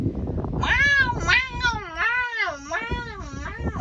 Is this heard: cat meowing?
yes